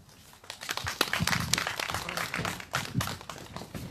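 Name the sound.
audience applause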